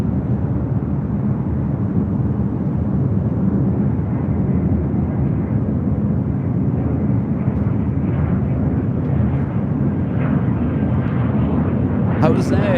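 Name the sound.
American Airlines Boeing 737-800 taking off at LAX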